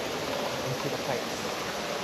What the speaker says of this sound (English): as man-made waterfalls